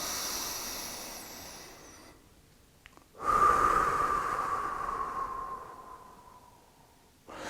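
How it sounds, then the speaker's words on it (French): Slow, deep breaths during a guided relaxation exercise: a long airy exhale fading out, a brief pause, then a strong inhale and a long steady exhale, close and quiet, with no talking. "prenez 2 minutes pour simplement faire des grandes respirations"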